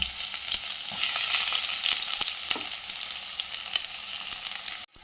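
Chopped onion sizzling and frying in a pan with garlic, a steady loud crackle with occasional stirring clicks, continuous and close, with no talk.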